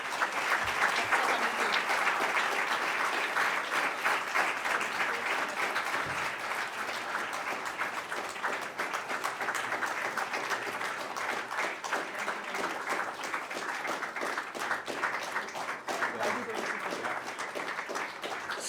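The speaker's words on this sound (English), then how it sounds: "round of applause" Sustained audience applause fills a general assembly hall in Belgrade, dense, even clapping continuing steadily for nearly twenty seconds with no talk over it.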